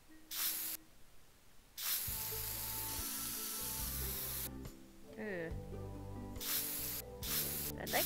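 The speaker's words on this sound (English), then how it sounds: "I've spray painted on accident." A spray-paint can sound effect from The Sims 4 plays in repeated short hissing bursts, bright and airy. Soft game music and chimes run underneath.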